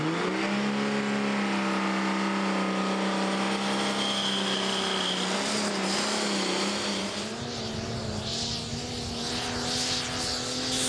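A pulling tractor's engine roars loud and sustained down the track at a tractor pulling event, its pitch holding high and steady before shifting and wavering toward the end.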